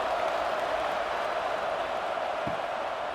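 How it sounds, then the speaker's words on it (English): A college football video game stadium crowd at USC vs. Iowa State buzzes as a steady, dense roar of many voices, even and continuous throughout. "this crowd is buzzing after that last score"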